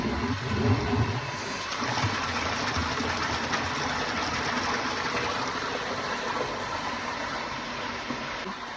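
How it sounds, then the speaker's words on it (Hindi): An electric water pump motor, switched on through a NEER Lite controller, runs with a steady whirring hum at a moderate, even level with no speech. "ये देखिए आपकी मोटर चालू हो चुकी है"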